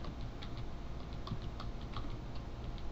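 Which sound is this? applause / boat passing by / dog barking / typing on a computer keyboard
typing on a computer keyboard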